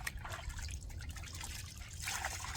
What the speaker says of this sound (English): Wring it out real good again, to where it's just lightly damp.